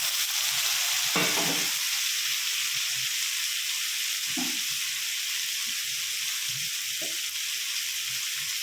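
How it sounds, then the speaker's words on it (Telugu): Tomatoes fry and get stirred in a pan for a tomato rice dish, a steady broadband sizzle running throughout with a few brief scraping stirs of a spoon against the pan, close and alone with no voices. "ఇప్పుడు ఇది వేగాయి కదా, టమాటా వేసుకుందాం."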